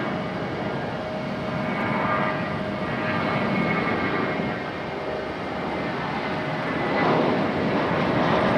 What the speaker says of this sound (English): That is JetBlue headed to Boston. JetBlue 484. A321 at 200.